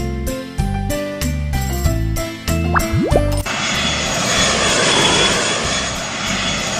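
A cartoon airplane engine effect from a French children's learning game, a steady broadband roar that enters abruptly after bright musical notes and plops and holds loud and constant to the end.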